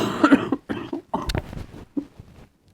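Several harsh coughs burst out close and loud at the start, followed by a few shorter throat-clearing coughs with brief pauses, ending in quiet.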